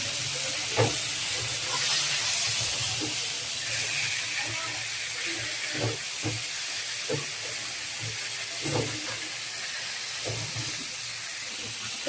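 Fish frying in oil makes a continuous hiss and sizzle, broken by scattered pops and clicks from the pan and utensils, moderately loud and close.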